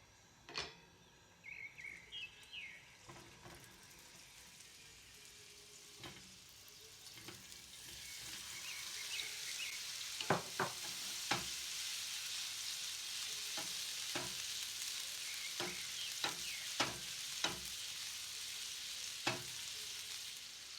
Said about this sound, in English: add 2 tablespoons of oil into a hot pan and fry the minced balls on high heat